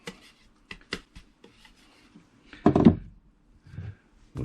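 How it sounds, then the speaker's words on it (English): Crud is scrubbed off a brass butt plate on an Enfield No 1 Mk III rifle, heard as short bursts of rough rubbing and scraping with pauses and a few soft knocks, close and fairly quiet. "we'll just scrub this up"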